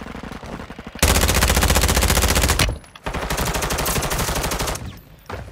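Video game machine gun fire in long, rapid, evenly spaced bursts, loud and close, broken by a short pause near the middle and ending in a quieter gap.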